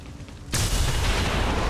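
A massive explosion in XCOM 2 bursts suddenly after a quiet half second, a loud, close, broadband boom that rumbles on without fading, no talk.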